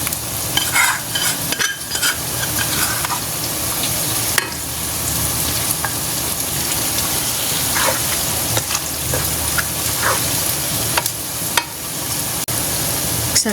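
A spoon stirs gongura mushroom pickle with tamarind paste in a pan over low heat: a steady hiss of sizzling oil runs throughout, with occasional scraping clicks of the utensil, close and with no talking.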